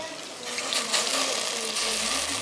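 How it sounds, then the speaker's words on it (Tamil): Water splashing and sprinkled into a pan of jaggery for sweet pongal syrup, a short burst of liquid pouring near the microphone with faint kitchen clatter. "50 ml தண்ணி வந்து ஈவனா எல்லா பக்கமும் ஸ்ப்ரெட் ஆகுற மாதிரி நான் ஆட் பண்றேன்"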